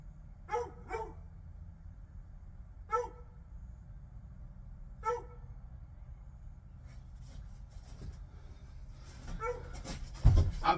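A dog barks outdoors at a home, several separate sharp barks spaced a couple of seconds apart at moderate distance, followed by a faint cluster of yips and a brief thump near the end.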